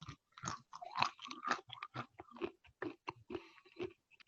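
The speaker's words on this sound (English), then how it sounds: "I'm still chewing." Crunchy chewing of peanuts right up close, a quick run of irregular bites and mouth noises with no talking.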